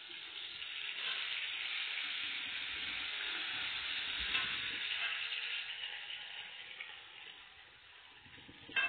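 Shredded cabbage frying in a pan with a tempering of spices for Bengali bandhakofir chochori, a steady close sizzle filling the whole stretch with no talk, a light clatter near the end.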